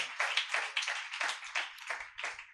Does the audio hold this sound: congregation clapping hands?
yes